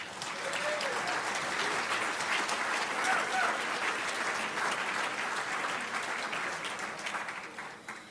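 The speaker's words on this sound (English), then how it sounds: "One more round of applause, please." An audience at a city meeting applauds steadily, a dense wash of clapping that holds for several seconds before starting to thin at the end.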